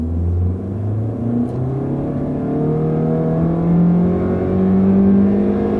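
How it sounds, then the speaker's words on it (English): A car taking off at full speed from a stop on a small drag strip, its engine rumbling loud and close with a steadily rising drone and no talk. "we'll stop and we'll see how fast this can take off"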